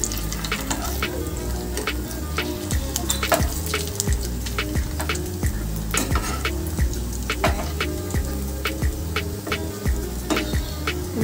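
Poppy seed fritters crackle and sizzle in hot oil in a pan, with sharp spattering pops and clinks as they are flipped, loud and close throughout, no talking.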